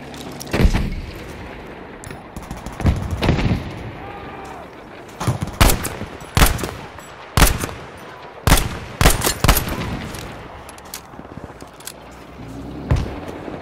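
AG M/42 rifle firing in Battlefield V, sharp single shots and short bursts repeating every second or so, loud and close over faint game ambience.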